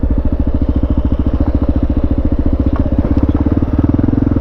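A 2020 Kawasaki Ninja 650 motorcycle rumbling loudly and steadily close up while riding, its engine pulses throbbing in an even rhythm throughout.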